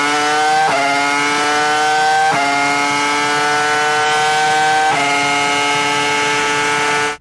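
A Formula 1 car engine screams at the top of its rev range, a loud sustained harmonic whine that drops sharply and climbs again at each of several gear changes before cutting off at the end.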